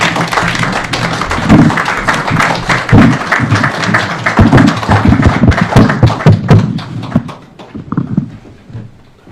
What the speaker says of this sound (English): Let us stand up and give him a round of applause.